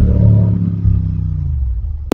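A modified Royal Enfield GT650 motorcycle accelerating on a highway, its loud low rumble dropping in pitch as it pulls away, with a sharp click near the end.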